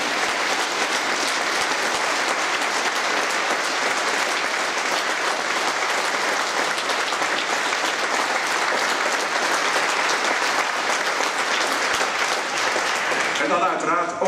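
A concert audience applauds the soloists at a Christmas concert by a men's choir, steady dense clapping that holds for the whole stretch and fades slightly at the very end.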